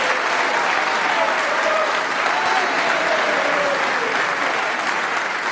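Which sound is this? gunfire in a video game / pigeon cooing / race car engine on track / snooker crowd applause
snooker crowd applause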